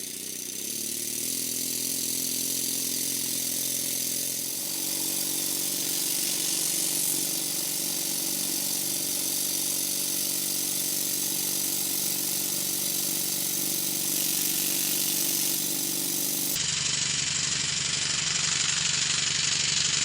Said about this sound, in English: I'll stop talking for a while and let you listen to the engine.